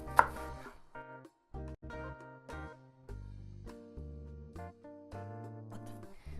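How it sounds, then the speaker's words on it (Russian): A knife chops an onion finely on a board, with quick, close, irregular strikes in short bursts and brief pauses between them. "Нарезаем наш лучок."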